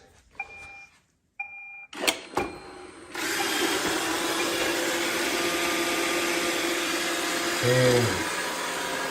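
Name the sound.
iRobot Roomba 692 robot vacuum cleaning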